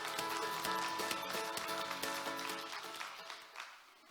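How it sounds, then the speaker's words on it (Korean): An audience at a 2021 hydrogen energy forum in Ulsan applauds, a dense wash of clapping that holds steady and then thins and fades out near the end. "한번 박수 부탁드리겠습니다."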